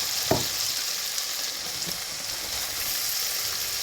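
Onions frying in melted butter in a pan, a low continuous hiss with a brief scraping knock near the start and another soft one later, no speech.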